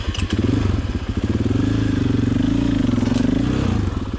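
Motorcycle engine revving steadily through a slow wheelie on a trail, a loud, close, continuous throb that holds its pitch with slight rises, alone without talk.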